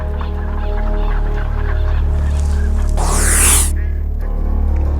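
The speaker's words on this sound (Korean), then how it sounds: "총소리에 놀란 새들이 갑자기 날아오른다." Tufted ducks and other waterbirds on a winter river in Korea honk and call loudly, with a sudden burst of flapping wings as they take off together, all over a steady low rumble.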